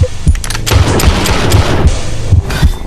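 Repeated gunshots from the VR shooter game Drop Dead Dual Strike Edition, Oculus Quest 2, sounding as loud, punchy booms spaced roughly every half second over a dense, steady game soundtrack.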